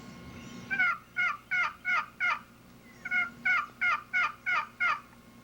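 A Preston Pittman wooden box turkey call imitates hen yelping: two close, loud series of sharp rhythmic yelps, five then six notes, with a short pause between and no talk.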